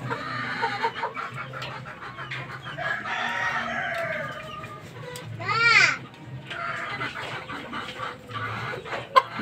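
A bulik talisay gamecock rooster crows once loudly and close, among clucking and other farmyard sounds.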